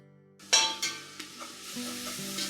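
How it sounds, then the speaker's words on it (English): Clam juice stirred into a hot flour roux for seafood chowder: a sudden sizzle as the liquid hits the pan, followed by a few spoon scrapes over a continuing bubbling hiss, close up with no talking. "Add, mix, stir. Stir as you mix."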